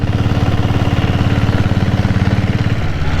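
Close and loud, a Kerala diesel Bullet motorcycle engine chugs at an even, fast rhythm, then its tone drops slightly near the end as the revs settle.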